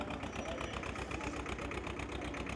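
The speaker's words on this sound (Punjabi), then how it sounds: "ਪੂਰੀ ਟਰੈਕਟਰਾਂ ਦੀ ਆਵਾਜ਼ ਆਉਂਦੀ ਵੀ ਐ ਜਿਵੇਂ ਟਰੈਕਟਰ ਚੱਲਦਾ ਹੁੰਦਾ ਹੈ" A tractor engine runs at a tractor festival, a steady, loud mechanical chugging with a rapid even pulse that continues without a break and no talk over it.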